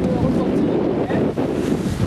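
Strong wind buffets the microphone aboard a sailboat in a harbour, a loud continuous rumble with gusty swells and faint water noise beneath.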